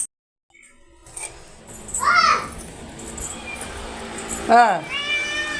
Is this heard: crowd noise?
no